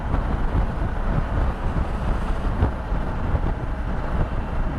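Wind rushes over the microphone while riding along an open national road, a constant low buffeting roar that fills the whole stretch.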